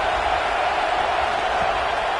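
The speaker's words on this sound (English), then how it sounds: "This crowd knows when to bring it." Stadium crowd at a college football game near the goal line, a steady broadband roar of cheering fans filling the whole stretch without a break, with no distinct voices standing out.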